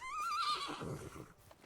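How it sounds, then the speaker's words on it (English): A horse in the medieval farming game Medieval Dynasty gives a clear, shrill whinny that rises and wavers, then trails off into low snorts, fairly close and alone without speech. "Hello, horse."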